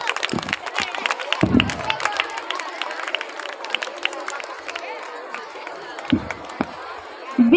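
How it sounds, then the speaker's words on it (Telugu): Students and guests clap during a school annual day prize giving; steady crowd applause runs for several seconds, broken by a few thumps and handling noises, with some chatter mixed in. "Big clap them."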